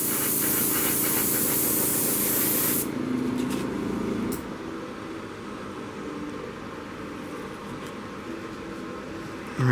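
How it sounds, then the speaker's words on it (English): An airbrush sprays paint onto a Union Pacific UP 2203 model locomotive during weathering, a steady close hiss that holds loud for about four seconds, then drops to a softer, continuing spray. "I'm going to hit the front of the engine now with the airbrush"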